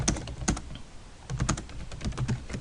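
Clicky keystrokes on a computer keyboard while a comment is typed in a classroom, coming in uneven bursts of taps close to the microphone, with no talking.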